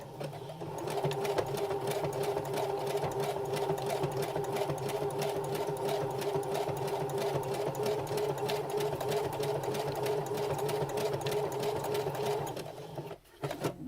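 A sewing machine back stitching a shoe runs in one steady, close mechanical whir with rapid even needle clatter for about twelve seconds, then stops abruptly with a brief clunk.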